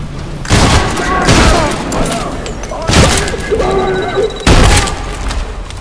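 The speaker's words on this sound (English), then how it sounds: "I'm a firing my laser." Laser weapon fired in the video game TREPANG2, heard as three loud, sharp broadband blasts, each trailing off into a crackling, rumbling wash over a busy game soundscape.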